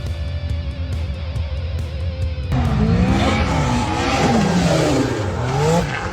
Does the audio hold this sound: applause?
no